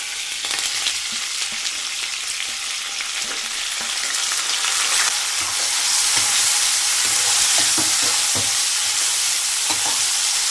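Curry leaves and large chopped onions fry in oil for a bitter gourd palya, a loud, continuous crackling sizzle with intermittent stirring scrapes that grows slightly fuller midway.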